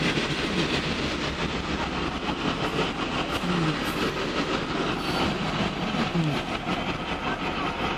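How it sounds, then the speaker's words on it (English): A fast train rushes past in Memphis, a loud, continuous rumble of rail cars with clickety-clack wheel rhythm and faint brief squeals, steady throughout with no talking. "Train runs fast here in Memphis."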